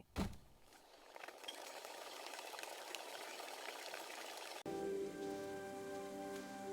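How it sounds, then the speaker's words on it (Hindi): Steady rain falling on a surface, a dense continuous patter of drops that holds evenly for several seconds before abruptly cutting to a quieter, tonal background with no talking. "लिली बारिश में बाहर आ गई।"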